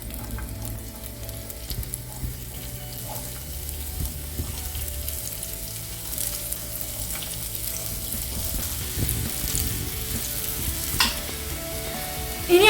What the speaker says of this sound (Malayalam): ഓയിൽ ചൂടായിട്ടുണ്ട്. ഇനി അതിലേക്ക് സവാള ഇട്ട് കൊടുക്കാം.